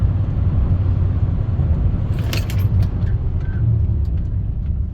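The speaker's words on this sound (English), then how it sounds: "we'll get on the brakes pretty hard here to stop and turn around" A RAM 1500 pickup truck fitted with PowerStop Z36 brakes slows hard from highway speed, heard from inside the cab as a loud, steady low rumble of road and engine noise.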